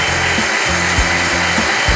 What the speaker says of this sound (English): I have turned the drill on full, and I probably didn't even need to do that